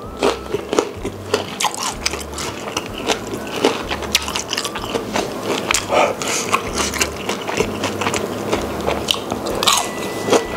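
Close, steady crunching and chewing of crispy fried tahu walik eaten with spicy garlic sambal, repeated bites and wet mastication running throughout with no talk.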